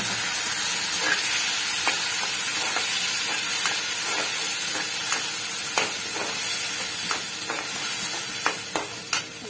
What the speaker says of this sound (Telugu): కరేపాకు, కొంచెం తాలింపు గింజలండి.